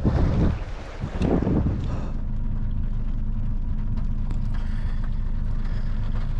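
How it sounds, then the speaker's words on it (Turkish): Rain and gusting wind buffet the microphone outdoors on the Bosphorus in Istanbul during a cold November fishing trip, a continuous rushing roar with louder gusts at the start and steady patter beneath. "Bayağı bir yağmur yağıyor. Zaten rüzgar da var."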